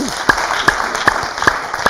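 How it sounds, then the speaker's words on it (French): Audience applause for a quiz winner at a café-style show, a loud steady crowd patter punctuated by a few sharp, evenly spaced clap-like accents roughly every few tenths of a second. "Applaudissements pour lui."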